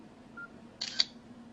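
A camera shutter gives a quick double click, short, crisp and close, after a faint brief beep, in an otherwise quiet room.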